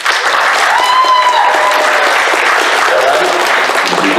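A live convention audience breaks into loud, sustained applause and cheering for Cinnamon Toast Crunch in a show-of-hands vote, a dense steady roar of clapping from a large crowd.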